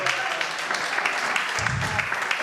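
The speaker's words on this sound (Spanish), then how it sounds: "Dale un aplauso al Señor." A church congregation applauds continuously through a sermon, a steady dense wash of clapping with no pauses, fairly near and loud.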